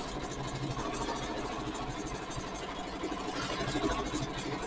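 A Janome 15000 Horizon embroidery machine quilting, a fast steady mechanical chatter of the needle running continuously at close range, with no talk.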